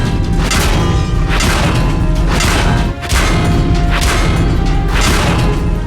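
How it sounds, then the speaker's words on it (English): Medium-damage hits on a World of Tanks tank land as repeated heavy metallic bangs about once a second, loud and close over a constant low engine drone with a brief dip midway. "This is the medium damage sound."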